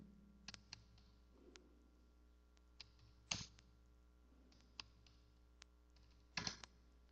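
Computer keyboard keys being typed in short irregular bursts of clicks, quiet and close, with a few louder clustered taps and faint background hum, no talking.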